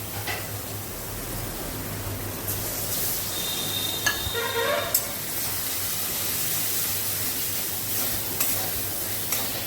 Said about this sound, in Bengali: এবার এই ডালটাকে ভালো করে ভেজে নেব।